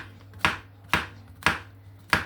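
A knife chops through mushrooms on a board in a home kitchen, four sharp, evenly spaced cuts about half a second apart, close and clear with no talk.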